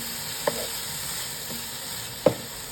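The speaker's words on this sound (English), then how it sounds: "Now saute and cook this for 5 more minutes." Soya chunks coated in ground spice powders sautéing in a pan, giving a steady, even sizzle with two or three light taps of a stirring utensil against the pan.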